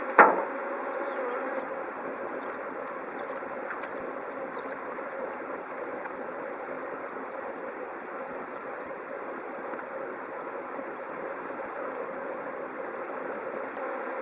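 A honeybee swarm buzzes steadily around a large cluster on a tree as the bees move into a hive, a dense continuous hum with a brief louder burst at the start.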